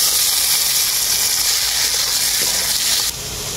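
Chopped tomato dropped into onions frying in a pan for a tilapia fish curry, giving a loud, steady hiss and bubbling sizzle that drops in level near the end, close up with no talking.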